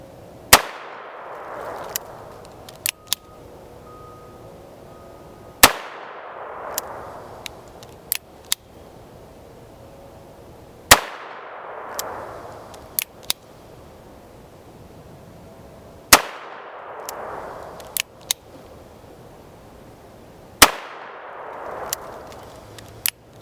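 A Chiappa Rhino .357 Magnum revolver fired in a series of sharp, loud shots, each followed by a fading echo, with five main reports spaced about five seconds apart plus smaller clicks and bangs in between.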